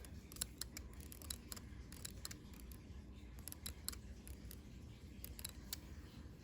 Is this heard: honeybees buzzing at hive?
no